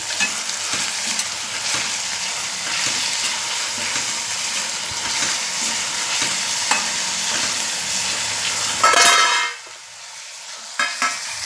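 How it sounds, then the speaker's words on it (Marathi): Ground ginger, garlic, chili paste and curry leaves fry and sizzle steadily in a pan as the mixture is stirred, with a loud crackling burst near the end before settling. "आता अद्रक लसूण मिरची हे वाटलेले आहे ते पण आता मी फिरवून घेत आहे त्याच्यात हा कडीपत्ता पण टाकत आहे"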